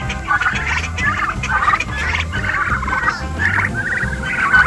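Several turkeys gobble repeatedly in a poultry pen, loud and close, their rattling calls overlapping in a steady, continuous chorus without speech.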